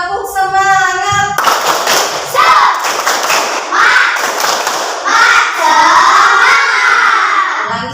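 Children in a classroom clap a rhythmic tepuk semangat chant together, loud and close, with bursts of group clapping and shouted syllables after an adult voice leads in.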